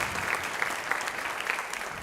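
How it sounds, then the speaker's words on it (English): Audience applause at a high school jazz band concert: a steady wash of clapping from a crowd, moderately loud and continuous for the whole stretch, with no voices over it. "Can you give them one more round of applause?"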